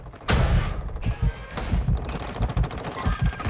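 Incoming gunfire in a shooter video game: loud, close volleys of rapid automatic shots with thudding impacts, bursts repeating across the moment, no voices.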